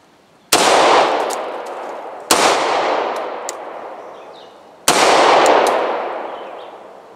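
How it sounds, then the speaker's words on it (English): A Beretta M9A3 9mm pistol fires three loud, sharp shots outdoors, spaced a couple of seconds apart, each followed by a long rolling echo. "Next up, Beretta M9A3 9mm."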